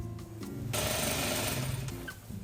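A sewing machine stitches a dress hem along a folded quarter-inch guideline in a short burst of rapid, buzzing mechanical running. It is close but fairly quiet and runs alone with no voices.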